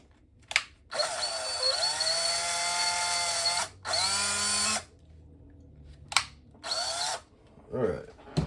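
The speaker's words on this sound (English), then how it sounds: "Grab the drill." A cordless power drill whirs in several bursts during an RC truck fender and wheel hex repair on a workbench, two long runs then shorter pulses with slight speed changes, close and loud, with brief quiet gaps.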